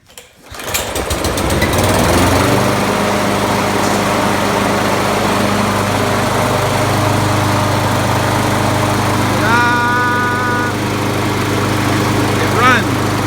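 A Poulan lawn mower's small engine catches after a brief start and runs at a steady, loud, buzzing drone close by, holding an even pace with slight fluctuations throughout.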